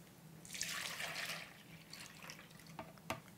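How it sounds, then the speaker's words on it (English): Milk pours into a bowl for a banana pudding, a steady liquid splash that swells for about a second and then settles into faint drips and trickles, close and alone. "You are now going to pour 3 cups of milk into the bowl"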